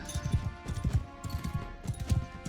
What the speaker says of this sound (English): This is a Sumter horse.